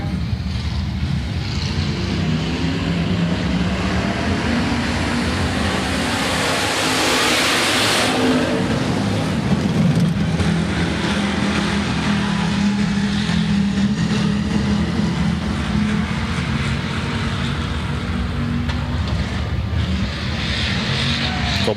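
Hobby stock race cars roar around Rapid Speedway during a heat race on a green-white-checkered finish. A continuous loud engine drone swells as cars pass near the middle and never drops away.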